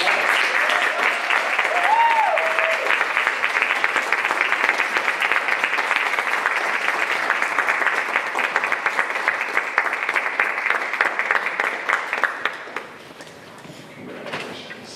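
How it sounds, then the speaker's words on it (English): An awards-ceremony audience applauds an honoree, a dense, sustained round of clapping that holds steady for about twelve seconds before thinning out, with a brief voice or whoop mixed in early on. "let's give Timmy another round of applause"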